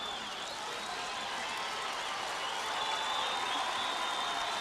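A high school Class C football championship crowd cheers and applauds from the stands, a continuous dense wash of clapping and roaring that builds slightly, with a whistle tone and faint voices mixed in.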